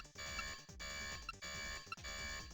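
A repeating electronic alarm from a Dreamcast video game sounds four times in steady pulses, each a loud, buzzing tone with harmonics, with no other sounds over it.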